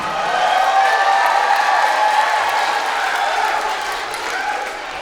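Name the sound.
children cheering for their school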